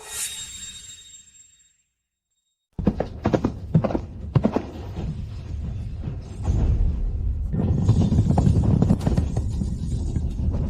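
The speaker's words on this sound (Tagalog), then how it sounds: "Natakot ang kabayo." Horse hooves clip-clop in a steady, busy rhythm, with a faint high whinny at the opening, then a brief silence before the trotting returns louder and thicker, as though several horses are moving close by.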